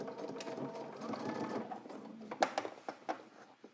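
A sewing machine runs a steady, close stitching drone along a trench coat seam, then breaks into a few short, sharp bursts as it backstitches.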